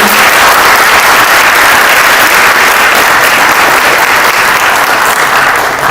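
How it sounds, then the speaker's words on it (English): An audience at a spiritual book launch event with live music applauds, a dense, loud, continuous wash of many hands clapping with no break for the whole stretch. "Please join me in giving a warm round of applause."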